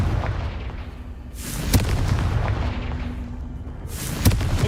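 Fiery spell blast from Confringo cast in Hogwarts Legacy, two sharp explosive bursts with crackling tails over a steady rumbling game backdrop, no talk.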